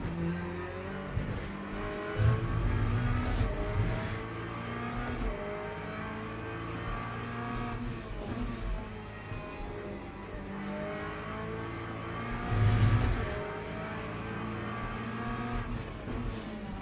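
Race car engines roar in a Le Mans Ultimate online race, several cars revving and accelerating with brief tire squeals and surges as one driver loses control, with no talking.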